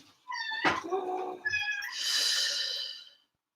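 A house cat meows twice close by in a quiet indoor room, each call long and drawn out, the second one rising and louder than the first.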